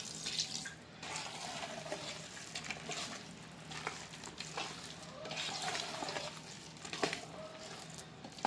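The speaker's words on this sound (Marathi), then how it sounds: "आणखी थोडंसं पाणी घालू." Water poured from a tap into a bowl of batter for sandge, a Maharashtrian sun-dried vegetable snack, a steady close splashing and trickling with wet stirring sounds that swell and ease over several seconds, with no talk.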